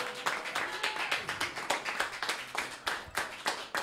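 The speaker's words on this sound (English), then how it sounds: "So let's give a round of applause to all our guests today." A small group of people claps with individually distinct, rhythmic hand strikes that stay steady and fairly close, with no voices over them.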